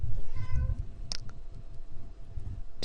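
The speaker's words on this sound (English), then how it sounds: "did you hear my cat?" A house cat meows once, briefly and fairly faintly, in a quiet indoor room, with a few small clicks afterward and no talking.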